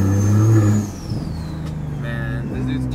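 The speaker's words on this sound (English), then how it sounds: "Loud ass turbos." A turbocharged car revs loudly on a city street, its engine roar and turbo whine surging then settling into a steady drone, with people talking nearby.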